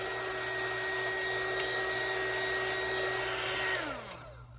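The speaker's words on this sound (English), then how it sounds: "It's just my embossing gun." An embossing heat gun blows with a steady, whooshing hum and a faint whine, then powers down and fades out near the end.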